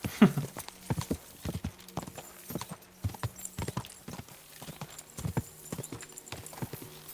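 Horse hooves clip-clop at a steady walking rhythm in Kingdom Come: Deliverance 2, carried by a slow, sturdy workhorse, with a snort or whinny near the start and a low hum of game ambience underneath.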